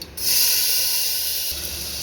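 Chopped small onions and tomato hit hot oil in a tempering pan for murungai keerai sambar, giving a loud, sustained hiss of sizzling that settles slightly toward the end.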